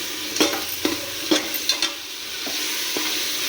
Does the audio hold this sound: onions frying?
yes